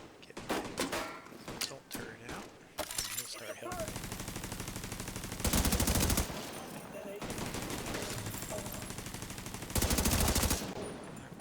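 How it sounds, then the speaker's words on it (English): An assault turret firing in The Division 2, a video game, with rapid bursts of automatic gunfire alternating with sharp single shots, loud and close, among other game battle sounds. "go ahead and get my assault turret out, and he'll start helping me."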